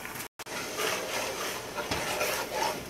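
Tomatoes cook with onions in a pan while a spoon stirs them. After a brief dropout, a close, steady sizzle continues with scraping strokes and light utensil knocks.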